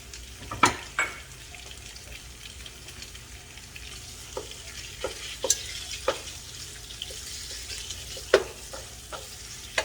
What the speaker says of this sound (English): And we're just going to slowly toss that stir.